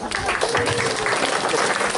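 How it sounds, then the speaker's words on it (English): An audience applauding in a dense, steady wash of clapping, fairly loud and sustained throughout. "Please, round of applause."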